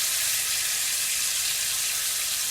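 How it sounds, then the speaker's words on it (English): Butter sizzles steadily in a hot pan, a constant bright crackling hiss up close with no voices. "I've got 2 pads of butter. You see it sizzling and there's no heat, it's just from the pan."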